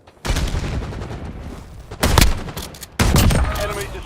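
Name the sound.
grenade explosion in the video game Warzone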